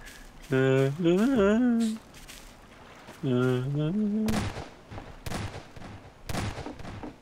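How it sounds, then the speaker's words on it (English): Several sharp gunshot cracks ring out in a Garry's Mod Prop Hunt match, spaced apart near the end, following a stretch of laughing, chatting voices. "it's the free shots to celebrate you know, the gunshots"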